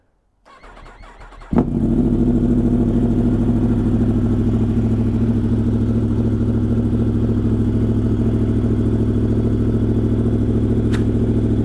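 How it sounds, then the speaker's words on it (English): A 2022 Yamaha R1 sport motorcycle with a BrenTuning ECU flash cold-starts: a brief cranking clatter, then the engine catches loudly and settles into a steady, throaty high idle that runs on alone. "So let's start out with the cold start."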